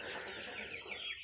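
Month-old chicks clucking and peeping steadily as a close, dense brood with no pauses, no voices over them.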